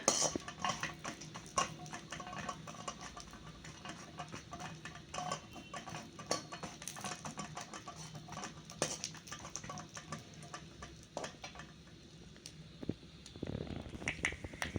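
Carrots being fried and stirred in a pan for carrot jaggery laddus, giving a close, continuous patter of scraping and light metallic tapping with a few sharper clinks, and no voices.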